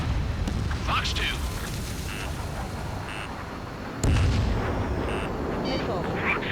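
Missiles launching and bursting in the flight combat game Ace Combat 7, a dense roar of engine and weapon noise with a heavier blast about two-thirds through, under radio chatter.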